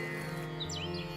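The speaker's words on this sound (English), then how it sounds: "Listen to the birds chirping." Birds chirp and tweet in quick, high calls over a steady background hum, with no one speaking.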